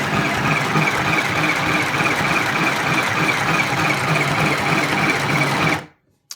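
A battery-powered mini sewing machine runs while stitching fabric, giving a steady, continuous whirring buzz at close range for about six seconds before it stops abruptly.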